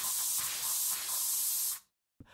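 Spray sound effect in a children's audiobook story: a loud, steady broadband hiss runs for nearly two seconds, then cuts off abruptly into silence before a brief click.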